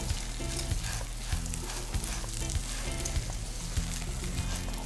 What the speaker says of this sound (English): At this point, I'll add a little salt and a little stock cube. And continue to stir.